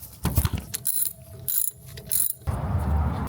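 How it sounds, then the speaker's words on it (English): Quick bursts of ratchet clicking from a 12mm ratchet wrench breaking loose thermostat housing nuts on a 1999–2005 NB Mazda Miata, three short close clicking runs separated by brief pauses, then a duller rustle of handling. "Grab a 12mm and break loose these nuts."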